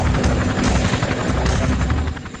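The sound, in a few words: helicopter flying with high-frequency radar test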